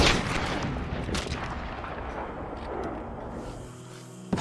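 Rifle gunshot in Red Dead Redemption 2, a loud booming blast right at the start with a long rumbling decay that fades over several seconds, ending with a small click.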